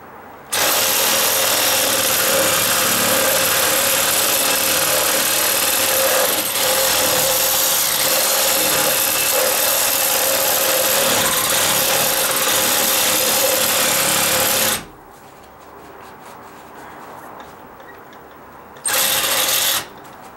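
A saw fitted with a 6-inch blade cuts into a dry-rotted wooden deck step with loud, continuous buzzing grind for about fifteen seconds. It stops, then gives a short final burst.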